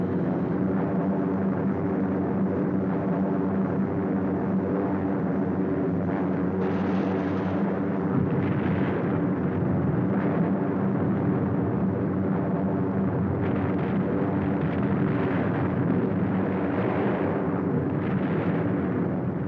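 Bombs exploding during a 1944 World War II bombing raid over a target, a continuous heavy roar of rumbling blasts with aircraft drone, dense and loud throughout with no clear breaks.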